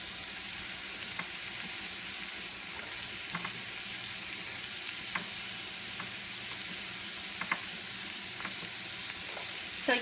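Carrot and other vegetables sauté in a pan for pansit bihon, giving a steady, dense sizzle with faint scattered clicks of a utensil against the pan, close and continuous with no voices.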